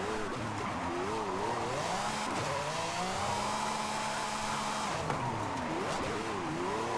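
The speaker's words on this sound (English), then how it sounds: "Even though it sounds like the Aventador engine in this now." V12 drift car in a video game, its engine wailing and swooping in pitch while the tires squeal continuously through long slides, loud and steady for seven seconds with no talk.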